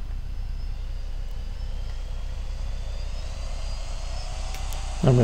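A 3DR Solo quadcopter drone, freshly repaired plastic body and new propellers, flies with a steady, loud rotor whine and hum that stays constant throughout, ending with a brief louder bump.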